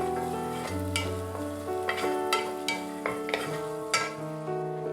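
Two long-sliced green chillies sautéing in a pan for mutton biryani make a soft sizzle broken by several sharp stirring knocks, heard under steady background music.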